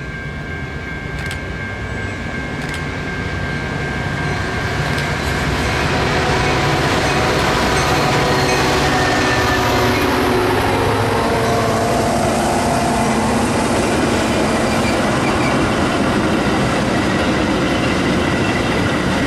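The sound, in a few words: train arriving at Arlington Heights station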